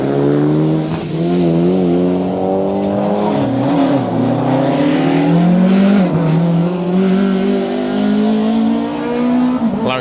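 Subaru and Mitsubishi rally cars race through a stage at a memorial rally, engines loud and close, revving up and down through gear changes in a continuous roar.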